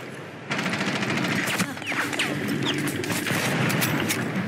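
Rapid automatic gunfire rattles almost without pause in a Rainbow Six Siege match, a loud, dense burst of overlapping shots and crackling impacts aimed at the player, with no talking.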